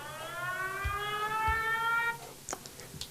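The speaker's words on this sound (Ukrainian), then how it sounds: "Повітряна тривога." An air raid alert siren in Ukraine, a steady harmonic electronic wail that holds for about two seconds and then cuts off, followed by a few faint knocks and clicks.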